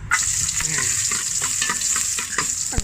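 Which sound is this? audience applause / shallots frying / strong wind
shallots frying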